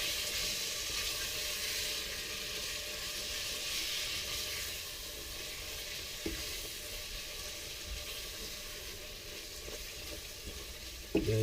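Beef curry (kari daging) sizzles and hisses in a frying pan as it is stirred, a dense continuous frying sound with a few faint scrapes and a louder clatter near the end, and no speech.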